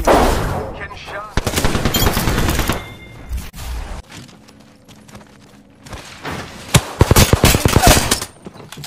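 Gunfire in the battle royale shooter Apex Legends, loud bursts of rapid automatic shots in two main volleys with a quieter gap between, joined by brief in-game voice callouts.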